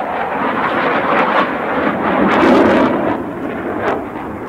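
Swiss Air Force fighter jet at the Axalp live-firing air show in the Alps, a loud, broad roar that swells and fades over a few seconds, heard alone.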